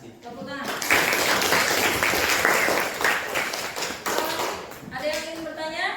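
Classroom applause for a group presentation on tuberculosis bacteria: a burst of close, lively clapping from a small group lasting several seconds, with voices heard briefly at the start and as it dies away.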